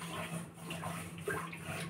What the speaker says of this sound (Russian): сейчас помоем посудку